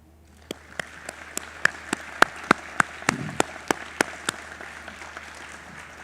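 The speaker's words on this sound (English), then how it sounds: "I want to give a big round of applause to the family members who are here" Applause for family members at a public safety awards ceremony comes as a sparse run of about a dozen crisp, evenly spaced claps that sound like a single pair of hands, fairly close, over quiet room tone.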